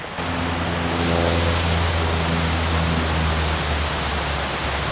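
A garden sprinkler sprays water over trees and shrubs with a steady, loud, hissing rush that starts after a low engine-like hum and then continues evenly.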